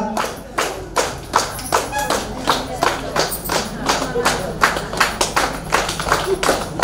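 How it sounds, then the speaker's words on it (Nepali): A crowd at a Nepali gathering claps together in a steady, rhythmic beat, moderately loud and near, keeping an even pulse throughout. "यसलाई अन्यथा नसोचेर ताली बजाइदिनु होला"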